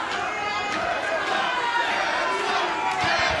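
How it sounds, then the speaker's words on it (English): A wrestling crowd in a Dallas arena roars and chants for Tessa Blanchard, a dense sustained wash of many voices, with a commentator's speech layered over the noise. "this crowd in Dallas chanting for Tessa Blanchard"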